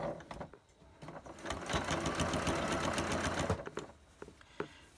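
A home sewing machine stitches a fabric face mask, running steadily at close range for a few seconds between short starts and stops, with light handling noise at the edges.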